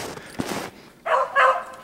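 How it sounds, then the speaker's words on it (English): Hunting dogs bark on a chase in the distance. There is a short burst of yelping, a pause, and then two more barks at moderate volume. No one talks. "There, we got some barking going on."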